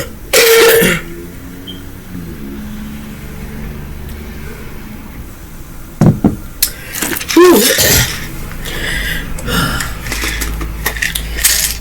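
A woman coughs and clears her throat in bursts near the start and again around the middle, each loud and close against a quiet room with low background hum.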